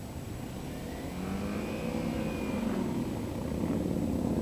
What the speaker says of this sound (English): Nothing but motorcycles as far as you can see.